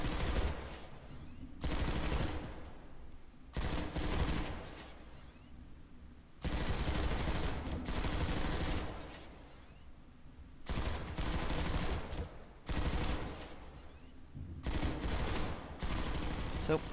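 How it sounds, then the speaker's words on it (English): Sustained automatic weapon fire from PlanetSide 2, heard as loud, dense bursts of rapid shots about one to two seconds long, broken by short pauses throughout. "with a little bit of trigger control, as you can see here in the VR, you can keep firing an awful long time"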